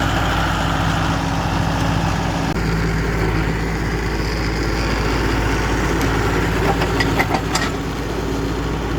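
A tractor engine runs steadily at a low idle on an off-grid homestead in East Tennessee, its rumble constant and fairly close, with a few faint clicks and knocks over the final seconds.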